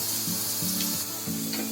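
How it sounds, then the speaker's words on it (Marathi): Two spoons of ghee sizzling in a hot kadhai while pudina rice is being made, with a continuous bright hiss and a low background hum in a short, steady stretch. "आता याच्यामध्ये मी 2 चमचे घी टाकते"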